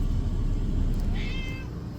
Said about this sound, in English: This is my trucker kitty